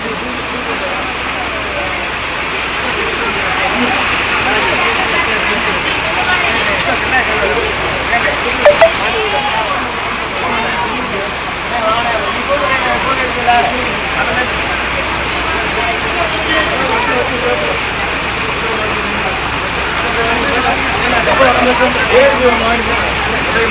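Heavy rain pours down steadily at a chariot-procession church festival in Thirumayam, Pudukkottai, a dense continuous hiss with faint scattered crowd noise and occasional louder splashes underneath.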